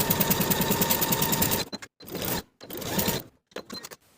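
A sewing machine stitches a 5/8 inch seam on a New Look 6594 flutter sleeve midi dress, a rapid rhythmic whir for over a second and a half, then short stop-start bursts separated by silences.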